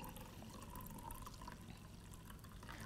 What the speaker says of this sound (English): if I pour out another 175 milliliter glass of wine